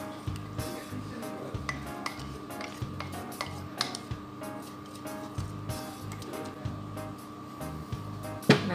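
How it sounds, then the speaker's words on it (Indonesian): Donut dough with yeast and egg stirred in a bowl, a rhythmic series of soft squishing strokes with light clinks of the utensil against the bowl, close and steady. "seperti ini kita aduk rata ya"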